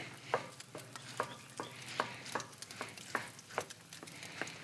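A spoon mixes jasmine rice in a paella pot: a regular series of sharp scraping strokes over a soft background sizzle, close and fairly quiet, with no talking.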